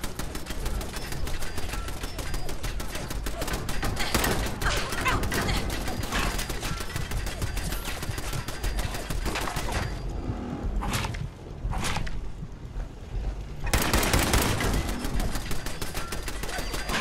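Dense gunfire in the Fallout 4 video game during a militia attack on Corvega chemical plant, rapid repeated shots rattling almost continuously, briefly pausing before resuming loudly.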